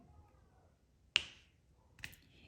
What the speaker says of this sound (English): the cat is just meowing and crying.